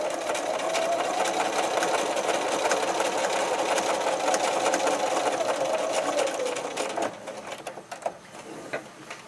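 A sewing machine runs a continuous seam along the side of a doll-sized backpack, a steady close mechanical whir for several seconds that slows and stutters into a few separate stitches at the end.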